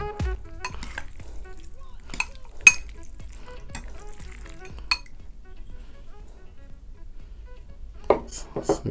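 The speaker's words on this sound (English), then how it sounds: "I'm going to go ahead and give our spaghetti a mix together" Cooked thin al dente spaghetti noodles being stirred and mixed in a pan, with soft scattered clinks and scrapes of utensils against cookware, a few sharper knocks, and a quiet low rumble underneath.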